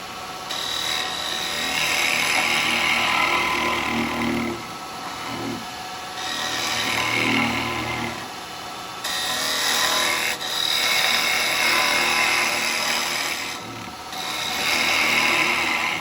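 Wood lathe spinning a natural edge bowl at over 2,000 rpm, a steady loud whirring hum with repeated scraping passes of the turning tool, no talking.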